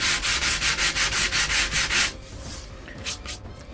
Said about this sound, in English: take a bit of sandpaper, just wear it all down